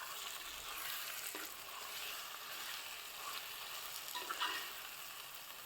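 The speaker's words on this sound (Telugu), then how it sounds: "ఇందులో కడిగిన రొయ్యలను వేసి పచ్చివాసన పోయేంత వరకు వేపుకోవాలి" Washed prawns frying in a pan, a steady dense sizzle with occasional stirring scrapes, close and continuous, no voices.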